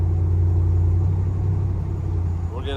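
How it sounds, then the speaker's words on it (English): A 1971 Ford F100 XLT Ranger Heavy Duty Special pickup cruises at 50 mph on a highway, giving a steady low engine and road rumble with no talk over it. "So pretty quiet considering how old this truck is. Again, I'm doing 50 miles an hour on a highway"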